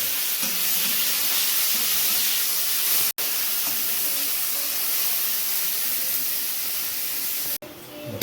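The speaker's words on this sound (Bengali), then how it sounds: "এরপর উচ্ছটা ভাজা হচ্ছে" Bitter gourd slices fry in hot oil with a steady, loud sizzle and hiss, broken by two abrupt cuts, close up with no clear talk.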